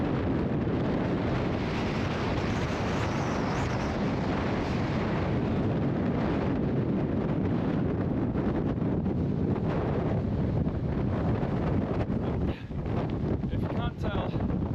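Strong wind buffets the microphone throughout, a loud, constant roaring rush with gusty fluctuations.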